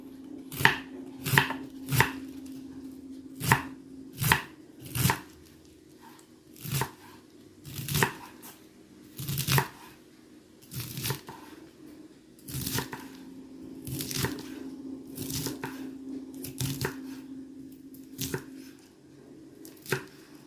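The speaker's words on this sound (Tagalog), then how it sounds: "So, hiwain lang natin ng katamtaman." Cabbage being sliced with a knife on a cutting board for vegetable okoy, crisp separate chops at an uneven pace, sometimes in quick pairs, close by and alone.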